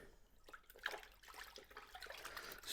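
Rinseless car wash solution is stirred in a bucket, giving faint, quiet sloshing and trickling water sounds with small splashes over a few seconds, with no voices.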